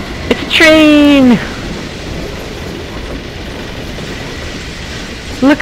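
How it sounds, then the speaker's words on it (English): Train in Half-Life 2 with a steady rumbling rail noise running throughout, marked early by a loud, falling tonal sweep and a brief clank near the end. "It's a train!"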